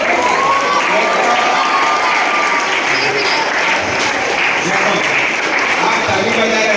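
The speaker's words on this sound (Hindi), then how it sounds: "आप ताली बजा रहे हैं" An audience at a retirement speech in Anushakti Nagar, Mumbai, claps steadily and warmly for several seconds, a dense, sustained round of applause with a murmur of crowd voices in it.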